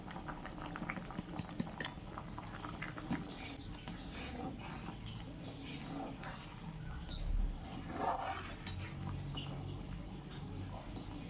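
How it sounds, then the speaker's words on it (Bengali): Pea curry broth coming to a boil in a pot, a low continuous bubbling and popping with scattered small ticks, fairly quiet and close, with faint voices in the background. "মটরের ঝোলটা ফুটতে আরম্ভ করেছে"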